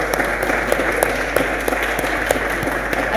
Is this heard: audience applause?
yes